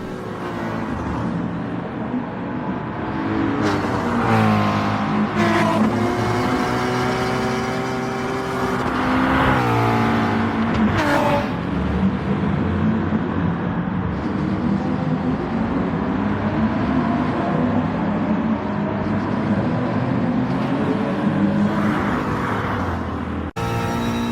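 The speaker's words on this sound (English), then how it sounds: "we've caught right back up with Johnny, and the two Beamers are still at it" Race cars in Gran Turismo Sport at Spa-Francorchamps, including BMWs and a Porsche, roar loudly and continuously, with engine pitch repeatedly climbing and dropping through gear shifts.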